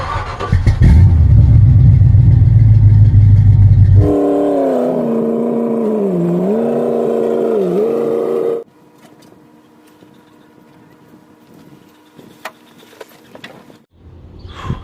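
A Chevrolet S10 pickup's engine runs with a loud low rumble, shifts into a droning idle that rises and dips, then cuts off, leaving quiet background with faint clicks and movement.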